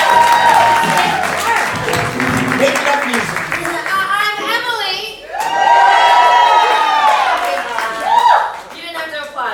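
An audience at an improvised live show applauds and cheers, with loud clapping and whoops filling the room while people talk and shout over it.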